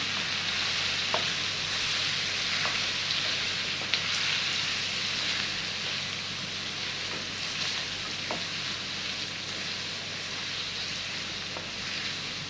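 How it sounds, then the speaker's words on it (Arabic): Spices being stirred into meat in a frying pan for garlic pot kebab, giving a steady, soft sizzle with faint scrapes and occasional light clicks of the utensil, close by and with no talking. "وهبتدي بقى اقلب البهارات كلها مع اللحمه"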